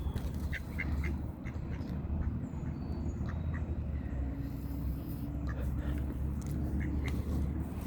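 Ducks on a pond while duck feed is poured, with scattered quacks over a steady low rumble of background noise, fairly faint and close by.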